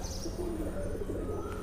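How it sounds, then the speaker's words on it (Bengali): Pigeons cooing at a Hindu temple, soft low rounded coos repeating close by over a steady outdoor hum, with no talk. "দেখো কত পায়রা এখানে"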